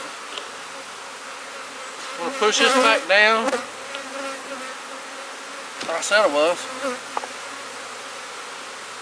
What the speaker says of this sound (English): Bees are getting a little aggravated, so it's time to give them a little more smoke.